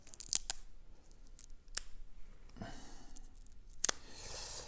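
Packaging on a deck of board game cards is tugged open with sharp plastic crinkles and tearing snaps, a few distinct crackles close up amid quieter rustling.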